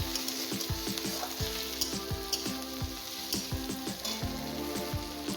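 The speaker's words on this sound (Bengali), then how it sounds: "আমার এক মিনিট ভাজা হয়ে গেছে" Raw green tomatoes frying in a pan, a steady close sizzle with rhythmic stirring scrapes repeating throughout, no voices.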